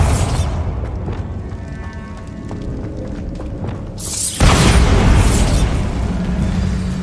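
A Bombarda spell detonates in Hogwarts Legacy, sending a sudden loud blast over quieter ambient game sound, followed by a sustained rumbling roar as the debris settles.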